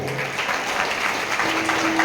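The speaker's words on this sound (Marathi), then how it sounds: "सैनिकांचा सन्मान करताना जोरदार टाळ्या पण द्यायच्या आहेत." Steady, dense applause from a crowd gathered at a Sai temple in honour of soldiers, continuous and fairly loud throughout with no break.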